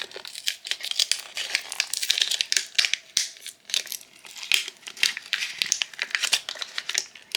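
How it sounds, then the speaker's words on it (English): Paper backing being peeled off a textured, iridescent square resin coaster, a close, continuous crinkling and crackling tear with rapid irregular snaps that runs for several seconds without talk. "Here, let's just try to peel it off."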